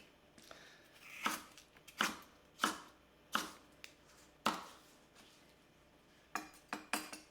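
A Konosuke Honyaki wa-gyuto knife chops food on a cutting board, a few crisp knife-on-board strikes spaced about half a second apart, close and clear, ending in a quicker cluster of cuts with no talking.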